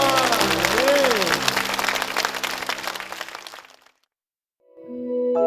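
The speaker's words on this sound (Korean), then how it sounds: "주님께 영광의 박수를 드리겠습니다" Church congregation clapping in praise, a loud crowd burst with a held tone underneath, fading out into silence before music comes in near the end.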